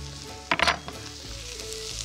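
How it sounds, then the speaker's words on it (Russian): Bacon sizzles and crackles in a pan with onion and garlic, with a brief burst of spattering and stirring noise before settling into a steady fry. "отправляю бекон к луку и чесноку. И обжариваю"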